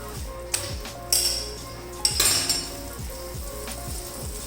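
An aloo paratha being turned over on a hot pan with ghee, giving a steady sizzle punctuated by a few sharp clinks and scrapes of a utensil against the pan.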